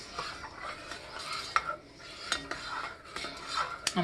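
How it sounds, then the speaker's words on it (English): A spoon scrapes and swirls through sugar syrup in a pot while making marshmallows, soft clinks and sloshing strokes repeating in an uneven rhythm, close and fairly quiet. "You'll also be able to hear when you're stirring it"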